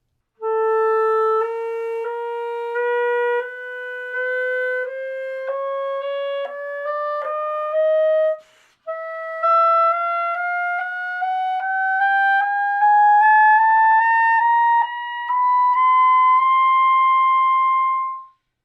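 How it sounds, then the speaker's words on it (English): A clarinet climbs slowly through its altissimo register in small chromatic and quarter-tone steps, with sustained clear notes broken by one brief pause midway, played solo and close. "when we string all those together, the chromatic notes and the quarter tone notes, it'll sound something like this"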